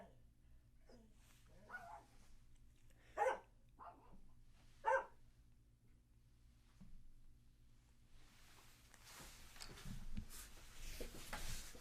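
A dog barks at a door in two short, fairly distant bursts amid quiet room noise, with some faint rustling afterward and no clear speech.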